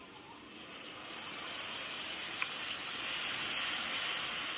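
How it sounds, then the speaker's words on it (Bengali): Spice paste added to a hot pan for a vegetarian banana-flower dish sends up a steady, hissing sizzle that swells gradually and stays loud and close throughout. "এবার মশলাটা দেবো।"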